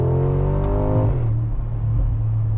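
A 2025 Mercedes-AMG G63 V8 engine hums at steady revs, then its pitch drops abruptly as a gear changes, settling into a lower, rumbling drone.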